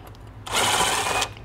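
A power tool spins out the last bolt from a Scout's rear differential cover, giving one brief, close whirring burst of under a second.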